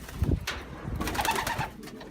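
A Bulgarian breed pigeon coos close by in a short, soft, throaty phrase that swells and falls over about two seconds.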